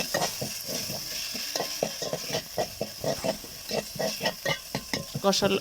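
Spice pastes of mustard, nut, green chilli, clove, cardamom and bay leaf fry in a pan while a spoon stirs them, rhythmic scraping strokes over a soft sizzle, close and fairly quiet.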